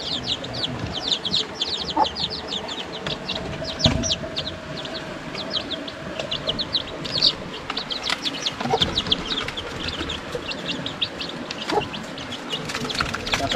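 Chickens cluck and chicks peep continuously in a coop meant for chicks and soon-to-hatch ducklings, with a busy chorus of high chirps and lower clucks at moderate volume.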